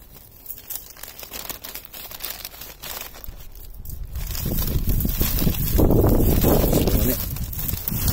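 Paper bag rustling and crinkling as dry, cut aquilegia seed heads are gathered inside it, the papery crackle growing louder and busier over the second half, with seeds rattling in close up.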